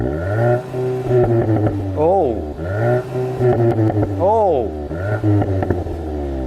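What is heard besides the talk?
Volkswagen Golf GTI exhaust revving in sport mode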